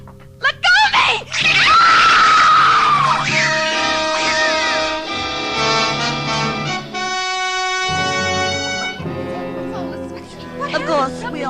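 A woman screams loudly and repeatedly, long piercing wails rising and breaking over a tense, noisy background, with brief voices between cries.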